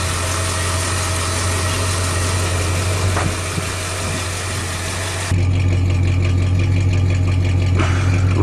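A 1935 Mercedes replica car engine idles smoothly and steadily, a close, even drone with no ticking, then the tone shifts slightly partway through as the engine keeps running.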